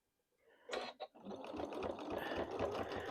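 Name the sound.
sewing machine stitching fleece corner to corner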